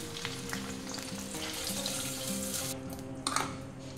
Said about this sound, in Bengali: এরকম করে বাকি পনিরগুলো ভেজে নেব